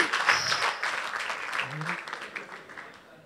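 A church congregation applauds and cheers in praise, with dense clapping and raised voices filling the room at full strength before slowly thinning out, all heard close and loud.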